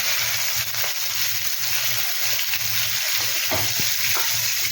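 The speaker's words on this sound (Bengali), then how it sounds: "তেলটা গরম হয়ে গেছে, এবার আমি এগুলো ভাজতে দিয়ে দেবো মাছগুলোকে।" Marinated katla fish frying in hot oil in a nonstick pan, a steady broadband sizzle with soft crackles and a few sharper pops, continuous and fairly close.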